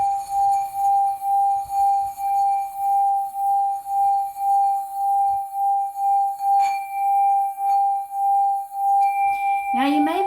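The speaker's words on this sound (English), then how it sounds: "That is the sound of my singing bowl." A singing bowl rings with one sustained, pure, pulsing tone that wavers slowly, close and clear, before a brief brighter struck sound near the end.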